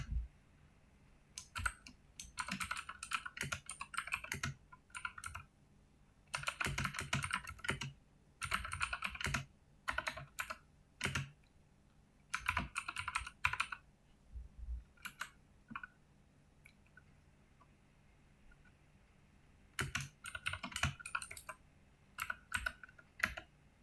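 Code typed on a computer keyboard in quick bursts of clicking keystrokes separated by silent pauses, close and fairly faint, with no voices.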